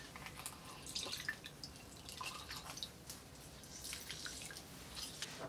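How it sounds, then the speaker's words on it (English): Juice dripping and trickling from a big Japanese lemon being squeezed, faint soft splashes and patters over a low wet hiss, close but quiet throughout. "Let's start by squeezing some lemon juice."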